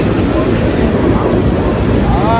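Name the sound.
manifest freight train passing near Gallitzin tunnels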